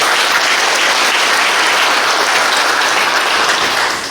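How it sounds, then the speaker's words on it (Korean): Sustained, dense applause from an audience at a city economic forum in Suncheon, loud and steady throughout before easing slightly at the end, with no talking over it. "다시 한번 큰 박수 부탁드립니다."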